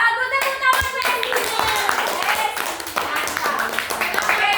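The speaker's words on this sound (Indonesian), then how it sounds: "tepuk tangan Besi" Children in a classroom clap their hands for a classmate, brisk crisp claps running continuously under lively kids' chatter and voices.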